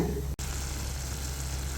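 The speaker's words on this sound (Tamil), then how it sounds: "இதை வந்து நல்லா கொஞ்சம் நேரம் கொதிக்க விட்டுக்கலாங்க" Steady sizzling and bubbling of a spicy sauce boiling in a pan, constant and close, with one brief dropout near the start.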